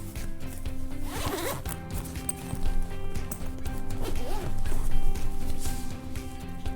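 The zipper on a FULAIM MX11 wireless lavalier microphone kit's carrying bag is pulled open in several rasping strokes, with fabric rustling and handling between the pulls, and no talking.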